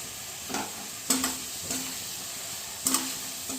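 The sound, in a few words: stirring spices with onion and tomato in a pan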